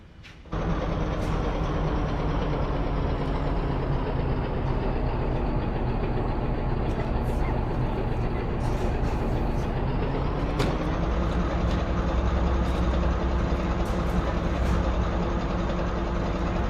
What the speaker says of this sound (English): Great news, Captain. Your tow's coming.